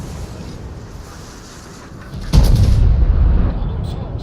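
A heavy battleship main-gun salvo in a naval video game booms out midway, a loud deep blast that rolls on with rumbling after a quieter stretch of background noise.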